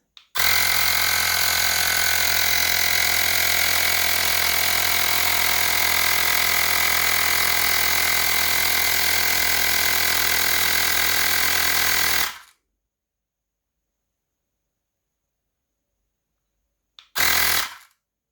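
Xiaomi Portable Electric Air Pump 1S inflating a low-pressure Ninebot Max scooter tire, a loud steady mechanical buzz running about twelve seconds, then silence and a short second burst.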